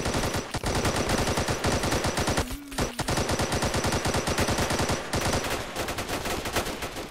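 Rapid bursts of automatic gunfire crackle nearly nonstop in the Call to Arms video game, loud and close, with short gaps and a brief pause midway before the shooting resumes.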